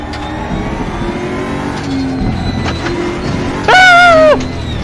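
A racing car engine revs in a racing video game, a steady droning run broken near the end by a brief loud high-pitched rising whine, with no talk over it.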